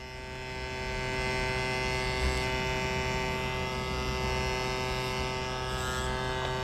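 Steady electric buzz of a tattoo machine running while someone tattoos with their non-dominant left hand, a continuous droning whine held close and even throughout with no talking.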